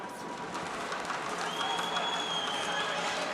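Home crowd roaring at a world boxing championship bout in Almaty, a dense, continuous wash of cheering and arena noise at a steady level, with faint commentary-like voices mixed in.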